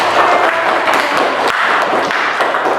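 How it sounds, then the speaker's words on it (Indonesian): A classroom group applauds the best presentation team, a continuous patter of many hands clapping with a few sharper claps standing out, steady and fairly loud throughout. "Oke, berikan tepuk tangan"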